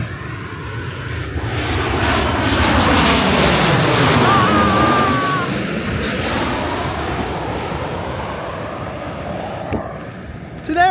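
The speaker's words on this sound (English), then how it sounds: "It's an aeroplane!" An aeroplane engine at London Stansted Airport in Essex roars past close by, swelling to a loud peak and then fading, with the pitch dipping as it goes. A voice speaks over the noise near the end.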